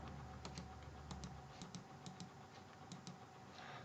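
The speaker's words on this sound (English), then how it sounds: "I can type here to test my keyboard." Keystrokes on a computer keyboard during Debian 11 setup, faint and quiet, scattered taps with a few paired clicks amid low background hum, no talking.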